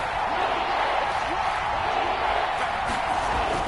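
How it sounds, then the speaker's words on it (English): A football stadium crowd roars steadily ahead of a big third down, a dense far-off wall of cheering under a commentator's voice. "The crowd getting into it as we come up on a big 3rd down"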